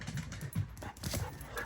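Dogs out on a walk or run during endurance training, their paws and movement giving quick rhythmic patters and scuffles close by over steady outdoor background noise, with no talk.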